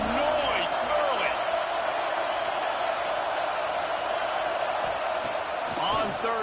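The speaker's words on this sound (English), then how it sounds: "This crowd bringing the energy and noise early." A packed football stadium crowd at a season-opening game roars continuously, a dense, loud wall of cheering and noise with voices audible over it.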